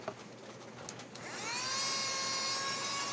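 A 2-in-1 vacuum cleaner set to blower mode spins up partway through, its steady motor whine rising and then holding loud and constant, with faint clicks before it starts.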